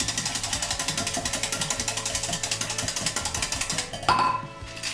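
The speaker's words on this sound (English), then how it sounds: "Give it a good whisk." Milk tea with sugar is whisked briskly, probably with a small electric frother, giving a fast steady rhythmic buzzing pulse that runs for about four seconds before a brief clatter.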